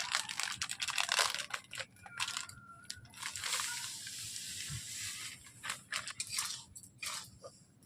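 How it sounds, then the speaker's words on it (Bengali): About 700 grams of semolina dry-roasting in a karai while a spoon stirs it steadily, giving a close, continuous scratchy scraping and granular crackle with faint sizzle and no talking. "এইভাবে আমি নেড়ে নিচ্ছি সুজিগুলোকে, 5 মিনিট আমি নেড়ে নেবো যতক্ষণ না হালকা লাল কালার আসছে"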